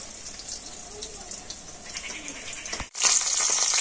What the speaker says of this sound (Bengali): আর এইভাবে আমি সমস্ত পকোড়াগুলো ভেজে নেব।